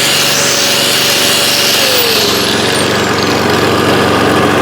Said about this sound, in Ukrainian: Під'єднав кутову шліфмашинку і працюємо.